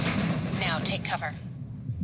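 Blind-fire submachine gun shots from cover in Alpha Protocol, a rapid rattle of close gunfire followed by a few scattered cracks, then quieter ambience.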